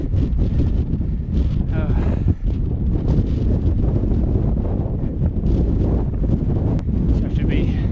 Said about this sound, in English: You know you're at the summit when it gets windy.